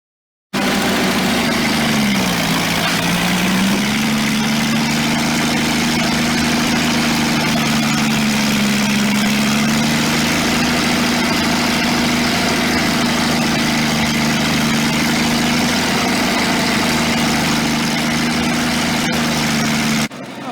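A Linn tractor engine, salvaged after being underwater, idles steadily for about twenty seconds, a loud, close, low droning hum with a slight dip in pitch early on and otherwise even running, no talk over it.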